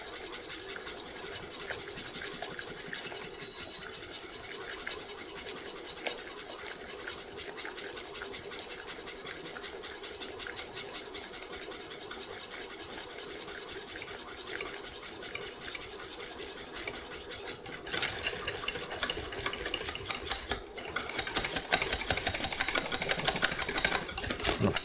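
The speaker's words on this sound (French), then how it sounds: "Et là, on mélange énergiquement pour éviter justement toute trace de grumeaux." Vanilla pastry cream for a mousseline is whisked vigorously in a pan, giving a steady, continuous scraping and stirring rasp. The whisking intensifies and grows louder toward the end, with no talk over it.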